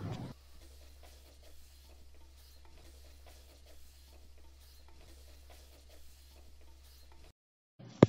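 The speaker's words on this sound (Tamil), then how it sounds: "தக்காளி, பச்சை மிளகாய் விழுதை இதோட சேர்த்து கொஞ்சம் பச்சை வாசனை போகிற வரைக்கும் நல்லா வதக்கிக்கலாம்." Tomato and green chilli paste is sautéed in masala for a sole fish curry, giving a soft, steady sizzle with light stirring scrapes in the pan. It runs quietly and alone, then cuts off near the end.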